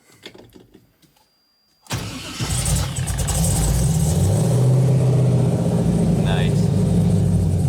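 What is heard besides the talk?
Subaru STI engine cold start and idle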